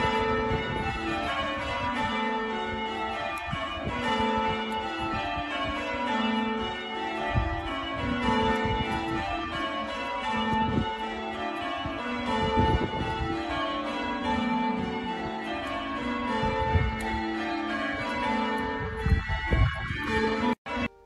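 Old bells ring in a dense, continuous peal. The overlapping tones sustain steadily for about twenty seconds and end abruptly.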